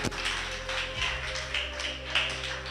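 Scattered hand claps from a group, uneven and moderately loud, with a steady low hum underneath.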